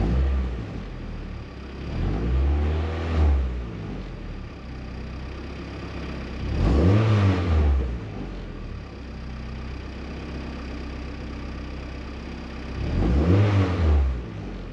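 A Hyundai G23BK boosted engine revs three times, each rise a deep rumbling surge over a steady idle, spaced several seconds apart.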